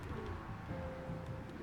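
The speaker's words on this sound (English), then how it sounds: "Pigeons are back." Pigeons coo softly in a low, rolling murmur, faint and steady under a dull ambient background with a few brief higher chirps.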